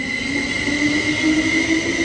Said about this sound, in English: we have one of the new Caltrain sets just leaving, just finishing a station stop here